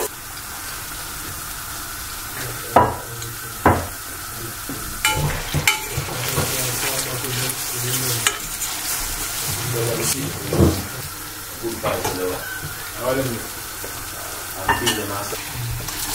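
Mushrooms fry in a pan for a vegan pulled-style dish, sizzling steadily like light rain while a utensil stirs and scrapes them in repeated close, louder strokes.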